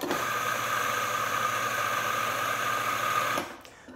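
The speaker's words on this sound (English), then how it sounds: "it only takes about 3 seconds to grind a full dose" Mahlkönig E65S espresso grinder grinding a 19-gram dose of coffee, a steady loud whirring motor hum lasting about three and a half seconds and then stopping abruptly.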